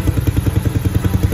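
A customized Dafra Kansas 150 motorcycle with a custom exhaust idles close by with a loud, rapid, lumpy exhaust putter, its beat rough and throaty.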